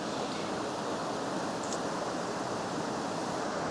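Rushing river water in the Yorkshire Dales makes a steady, broadband roar, continuous and close, with no voices and only a brief faint chirp-like tick partway through.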